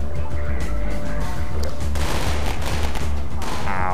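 Rapid gunfire from Half-Life 2, a dense unbroken fusillade of shots running loud through the whole stretch with booming low end and crashing bursts.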